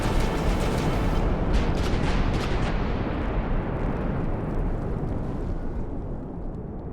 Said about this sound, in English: the first cannon shots burst through the air